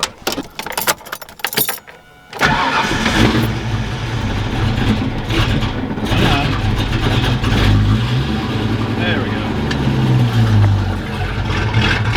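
Keys rattle in the ignition of a Ford Mustang, then the engine cranks and catches after about two seconds, settling into a loud, steady idle with a deep rumble and slight wavering revs that carry on to the end.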